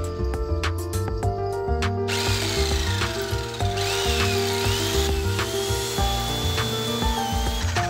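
A power saw cuts wooden pieces for a homemade wooden candy dispenser, a loud, sustained whining buzz with shifting pitch as the blade bites into the wood, after a few rapid knocks at the start.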